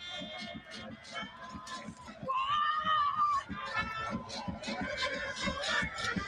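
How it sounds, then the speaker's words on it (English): A stadium crowd at a women's athletics field event screams and cheers, swelling loudly in the middle and staying excited throughout, while a commentator talks over it. "You hear those screams."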